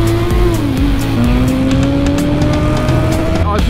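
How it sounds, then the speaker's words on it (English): A BMW S1000RR M Sport motorcycle engine drones loud and close, with a string of sharp exhaust pops and crackles of backfire over it and a quick rising rev near the end. "Oh, backfire."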